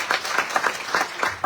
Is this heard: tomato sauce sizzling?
no